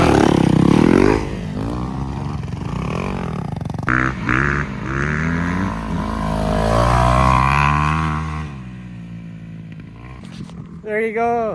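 A Kawasaki KX 250 dirt bike rides close by, its engine droning and revving up and down in pitch throughout, with voices mixed in at times.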